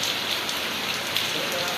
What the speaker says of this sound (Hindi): मैं आपको अभी मौसम दिखाता हूँ बाहर कैसी बारिश हो रही है